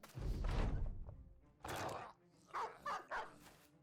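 A dog in the Battle Brothers video game gives a few short, faint barks and gruff yelps in quick succession, with thumps between them.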